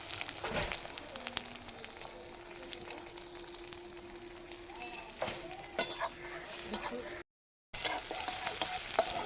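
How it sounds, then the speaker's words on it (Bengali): Garlic and onions sizzle and crackle in a frying pan, with steady frying noise, occasional scraping stirs and a faint background tone, briefly cutting out near the end. "এরপরে আমি এই পেঁয়াজগুলো দিয়ে দিচ্ছি"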